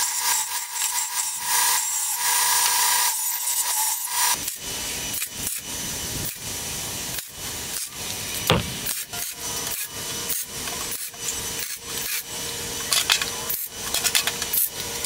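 Metal is worked to take a sharp corner off before welding, giving steady abrasive rubbing followed by a run of rhythmic rasping strokes, close and fairly loud with no talk.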